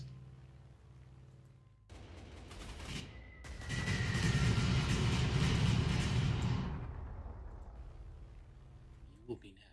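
Heavy bomber strike in the World War II strategy game Panzer Corps II, a swelling roar of blasts and rumbling detonations that builds, holds loud for a few seconds, then fades out with a final small pop.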